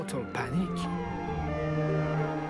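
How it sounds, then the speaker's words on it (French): Wailing sirens from fire engines and police vehicles outside a Monaco apartment building, a rising and falling tone that holds steady throughout, heard through dense background noise. "Monaco se réveille au son des dizaines de sirènes de pompiers et de police entourant le bâtiment La Belle"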